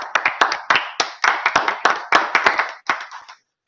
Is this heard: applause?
yes